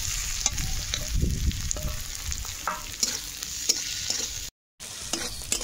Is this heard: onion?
yes